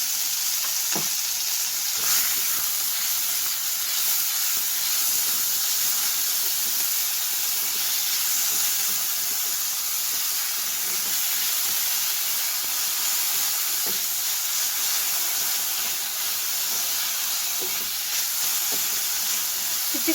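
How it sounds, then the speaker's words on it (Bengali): Fenugreek leaves sauté in hot oil with ginger and garlic, a loud dense hiss and sizzle that holds steady for a long stretch, with faint scrapes of stirring now and then. "সেই পাতাটা এখন আমি এই তেলের মধ্যে দিয়ে ভালো করে সতে করে নেবো"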